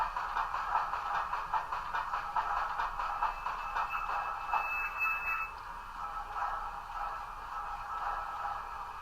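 Model steam locomotive with a Tsunami2 sound decoder braking: a continuous close hum with rhythmic pulses, a thin high squeal entering partway through, then the sound eases slightly.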